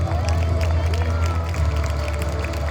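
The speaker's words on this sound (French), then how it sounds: "Applaudissez les vainqueurs" Crowd of townspeople from Compiègne applauding the victors at a Joan of Arc stage performance, a dense continuous wash of clapping and cheering with a low hum beneath, steady and loud throughout.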